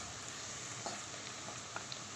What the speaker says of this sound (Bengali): এবার সব তেলে ভাজবো